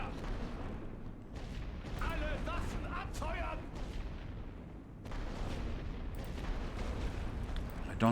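Artillery fire in The Great War: Western Front game lands as repeated dull booms and rumbling blasts, loud and fairly close, in irregular bursts over a constant battlefield din, with a voice talking in places.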